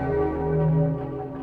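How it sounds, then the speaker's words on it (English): Clock tower bell tolling in Resident Evil 3: Nemesis, a single deep resonant strike with a long humming ring that sustains loud and close. "Got a little distracted by the ringing in my ears. Oh, wait, it's actually the clock tower."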